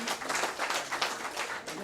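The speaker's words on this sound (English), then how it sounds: "we can clap for them" Audience at a national training awards ceremony applauds for L&T, a brief burst of clapping from a small crowd.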